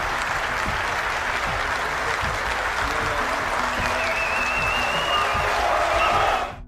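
Members of an assembly hall give President Erdogan a long round of loud, sustained applause at his oath-taking. It is a dense, continuous roar of many hands clapping close by, holding steady before it fades out at the end.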